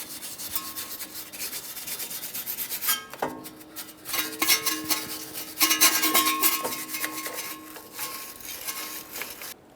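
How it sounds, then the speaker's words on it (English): A wire brush scrubs a 2015-2019 Subaru Outback front wheel hub in irregular bursts of harsh metallic scraping, close and fairly quiet, growing busier and louder midway. "I'm just going to use a wire brush."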